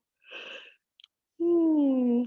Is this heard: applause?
no